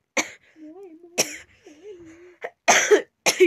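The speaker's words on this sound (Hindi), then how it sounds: "तो आज मेरी खांसी ना 1 महीना चला हो तो खांसी नहीं हो रही खत्म" A person with a lingering cough coughs several times in short harsh bursts, close and loud, with quiet humming or voiced sounds between the coughs.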